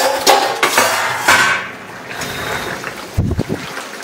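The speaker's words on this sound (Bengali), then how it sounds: "এখন ঢাকনাটা আমি তুলে নিই নামানোর জন্য।" A lid is lifted off a cooking pot of tilapia simmering with jute leaves, giving a couple of close metallic clanks followed by a softer rattle, with no talking.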